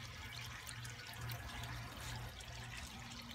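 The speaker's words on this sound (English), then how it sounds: "I actually want to share the calming water with you guys" Calm water flows and trickles in a faint, steady stream, soft and continuous with no voices.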